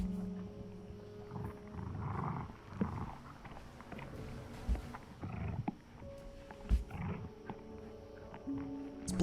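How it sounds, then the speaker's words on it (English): Growling, snarling animal sounds of a dog or coyote eating a cat in the video game Before Your Eyes, rising and falling in rough bursts over a low ambient drone, with a few sharp thuds. "It sounds like a dog or a coyote's eating the cat."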